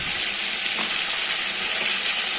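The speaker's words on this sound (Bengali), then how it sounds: "তো এইভাবে প্রত্যেকটি মাছ আমি ভেজে নেব।" Pomfret fish fries in a pan with a dense, constant hiss and crackle of hot oil, loud and close, with no voices over it.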